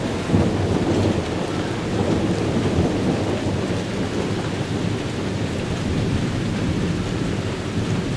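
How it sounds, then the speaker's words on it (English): Steady heavy rain pours down in a dense hiss while thunder rumbles low beneath it, continuous and fairly close. "Rain's picking up now. Storm's getting closer."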